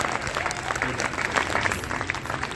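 An audience at a small-town Hindi poetry gathering (kavi sammelan) in Shamshabad applauds a poet, a steady wash of many clapping hands that swells slightly toward the end, with no voices over it.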